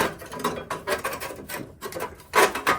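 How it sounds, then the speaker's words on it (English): The choke lever is being pulled off a Yard Machine 8/24 snow blower, with a few short, close mechanical clicks and scraping rattles in quick bursts. "pull the choke lever off"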